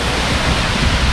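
A waterfall at Georgetown, St. Vincent, pours in a loud, dense, unbroken roar of rushing water, heard up close and alone for a short moment.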